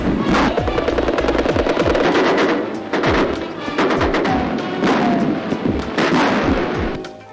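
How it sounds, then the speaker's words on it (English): Gunfire from American Rangers in a 1942 street sniping incident during Operation Torch, heard as dense, continuous volleys of rifle and machine-gun fire with sharp overlapping reports, loud throughout with brief lulls, on an old newsreel soundtrack. "American Rangers reply with a few shots"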